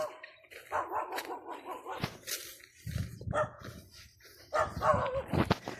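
Several dogs bark near a fish pond shortcut path in Quiajo, President Roxas, Capiz, with repeated close barks and yips in uneven bursts and some whimpering between them.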